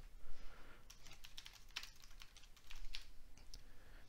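Quick, irregular clicks of typing on a Windows 11 computer keyboard, a few keystrokes clustered together, close and fairly quiet, with no talking.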